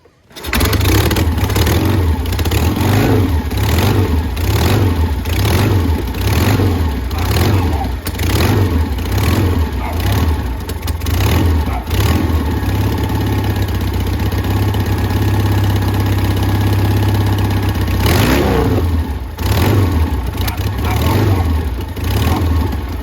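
A 1953 Triumph Thunderbird motorcycle engine, fitted in a Mad Max style build, runs steadily and loud for the whole stretch, a pulsing idle with small throttle blips and a brief rise in revs near the end.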